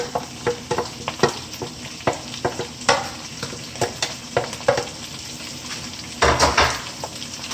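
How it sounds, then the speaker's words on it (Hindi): Spices sizzle and fry with goat meat and okra in a pan, with steady sizzling broken by repeated close stirring scrapes and a few metal clinks, loudest near the end. "अगेन अच्छी तरह भूनें, बहुत अच्छी खुशबू आना शुरू हो गई है।"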